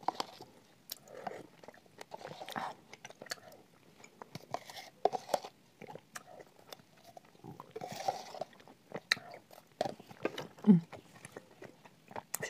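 Uzbek blue salt is bitten and chewed up close, with a long run of irregular crunches and gnashing broken by brief pauses.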